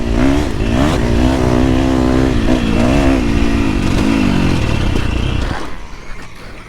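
A motocross bike on a free ride roars flat out, its loud, whining engine note wavering as it climbs and dips, then cutting away abruptly near the end.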